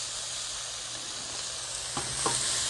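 Garlic sizzles in ghee on a Blackstone griddle, a steady close hiss of frying with a couple of brief scrape sounds near the end.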